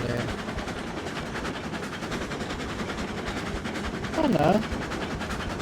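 Steam locomotive rolling on track in Railroads Online, a steady rattling clatter of wheels heard at moderate level, with a short rising whistle-like squeal near the end and a voice speaking briefly.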